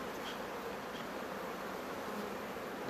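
Honeybees buzzing steadily around hive frames, a dense continuous close hum from many worker bees and drones with no voices.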